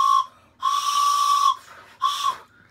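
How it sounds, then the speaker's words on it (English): A shrill train whistle blown in three blasts: a short one, a long steady one, then another short toot, each fairly loud and close. "It's the whole train whistle."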